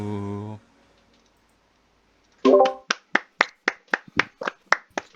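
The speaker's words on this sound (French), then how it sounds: "Sincèrement, j'applaudis." Hands clap in a quick, irregular burst of about a dozen sharp, close claps after a brief sung note and a pause, during a blind-audition singing contest; a few people clapping rather than a large crowd.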